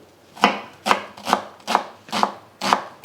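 Six evenly spaced knife chops through an onion on a cutting board, crisp and close, each a short sharp knock.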